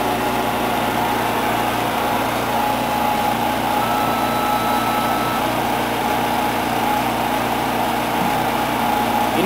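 A generator set running steadily during an automatic transfer to mains power, giving a loud, constant engine drone with a high whine that doesn't change across the whole stretch.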